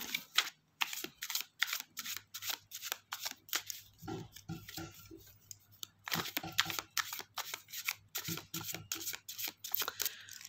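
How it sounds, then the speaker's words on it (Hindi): A tarot deck is shuffled by hand in quick riffling bursts, a rapid rhythm of crisp card flutters repeated over about ten seconds, close and fairly quiet with no voices. "कार्ड्स को अच्छे से शफल कर लेंगे"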